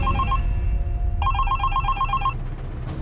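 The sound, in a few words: telephone ringing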